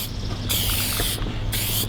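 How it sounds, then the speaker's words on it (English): An aerosol can of Shark Hide protective spray sprays in two long hissing bursts close by, with a brief pause between them and no talking. "we'll just hit them with the shark hide spray first"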